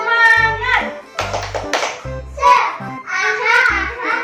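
Children perform a rhythmic spirit clap (tepuk semangat) in a Sunday school session, with bursts of clapping and chanting voices in repeated phrases, loud and close.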